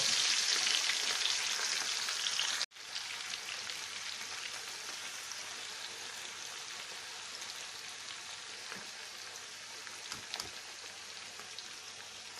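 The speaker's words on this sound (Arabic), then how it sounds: "نبدأ نحمر البصل في زيت غزير كأننا بنحمر" Onions, cut into strips and tossed with flour and salt, frying in plenty of oil; a loud, dense, continuous sizzle like rain, heard close and alone, with a brief break early on.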